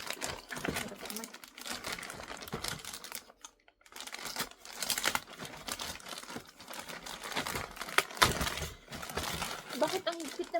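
Packaging wrap crinkles and rustles in bursts of crisp, close crackling while a parcel is opened, with brief pauses between the handling noises and people talking nearby.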